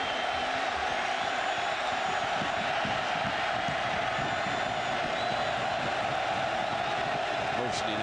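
Large stadium crowd roaring steadily throughout at a 2006 Ohio State vs Iowa college football game in Iowa, a dense, loud wash of cheering and whooping with a commentator talking over it.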